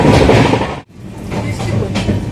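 Passenger train in motion on a journey from Kolkata, with a packed AC coach, giving a loud, steady rumble and rattle of wheels on rails that drops out briefly before resuming.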